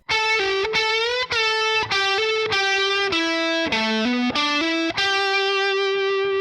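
Electric guitar with distortion and effects plays a solo, a loud run of sustained bending notes with a pull-off, each note ringing into the next and ending on a long held tone.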